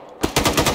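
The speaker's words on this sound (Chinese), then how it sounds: "我们现在在跟他交战中" Automatic gunfire during a firefight in the video game ArmA, a rapid loud burst of shots in a quick even rhythm that starts abruptly after a brief quiet moment.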